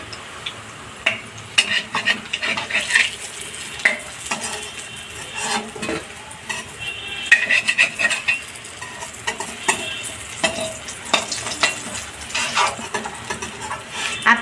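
Cauliflower dhoka pieces frying one by one in a pan, with a steady sizzle broken by repeated clinks and scrapes of a utensil stirring and turning them, close and moderately loud, with no talking.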